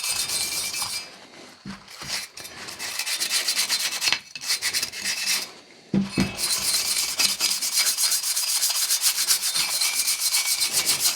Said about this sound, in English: You can scrub some of this off if needed.